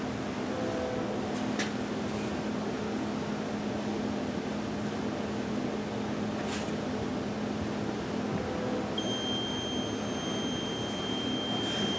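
Reefer refrigeration unit running its self-test, a steady mechanical hum with a constant low drone, broadband fan-like noise and a thin high whine joining near the end, heard alone at moderate level.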